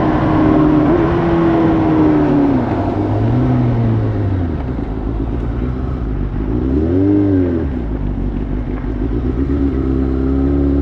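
A motorcycle ridden hard on twisty roads: a loud, close engine drone that climbs and falls in pitch as the revs build through the throttle, continuous throughout with no talk.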